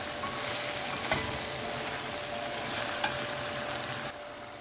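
Cabbage fries in a pan with a steady close sizzle, broken by a couple of sharp clinks before the sound drops off.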